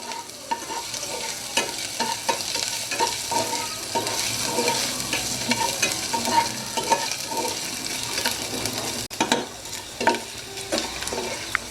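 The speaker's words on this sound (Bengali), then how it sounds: "আদা রসুনটাকে আমি হালকা গোল্ডেন করে ভেজে নিব" A tablespoon of chopped ginger and garlic frying until golden for beef teriyaki, a busy close sizzle under rapid, rhythmic stirring scrapes and an occasional pan knock, nobody speaking.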